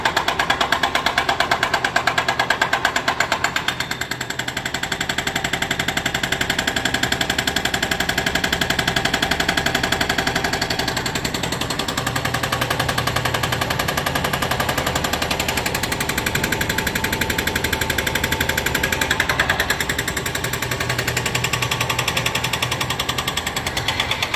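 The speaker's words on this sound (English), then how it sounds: "And over here we're using a jackhammer." Loud, continuous rapid pounding of a jackhammer close by, running steadily throughout with machine rumble and no talking.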